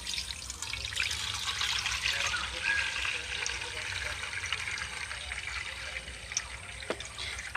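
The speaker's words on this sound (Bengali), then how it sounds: "আস্তে করে এইভাবে গামলিটাকে ধরে আর একটা গামলিতে এইভাবে জলটা ফেলে দেব।" Starchy water left from soaked potatoes is poured slowly from one bowl into another, a soft, steady trickle and splash of water that runs throughout at a fairly low level.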